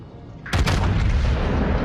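Heavy battleship main guns fire at the Yamato in World of Warships, starting with one loud, booming broadside. A sustained rumbling roar follows for more than a second, with no voices.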